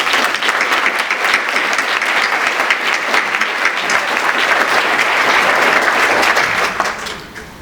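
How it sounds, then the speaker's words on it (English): A room full of people at a literacy recognition event applauds the essay submitters, giving dense, steady applause that holds strong throughout, then tapers off near the end. "So can we give them another round of applause, please?"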